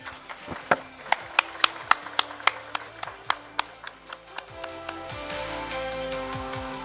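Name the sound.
audience clapping for the moderator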